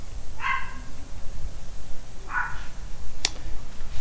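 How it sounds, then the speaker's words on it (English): A pet dog gives two distinct barks at a distance, followed by a brief sharp click, in a workshop where a diesel engine is being fitted into a Willys MB jeep. "That's my dog."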